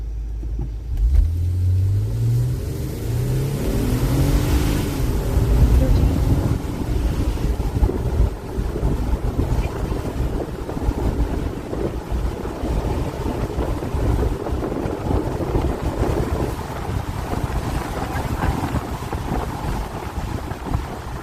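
A tuned Mercedes GL450 SUV accelerates hard along a test strip, the engine note rising through the gears over heavy wind buffeting and road roar, heard from inside the cabin with no talking.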